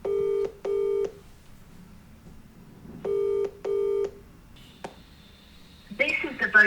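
A phone call to a Vodafone number produces two pairs of short electronic ring tones separated by a pause, followed by a faint click and a brief tonal beep before a voice begins.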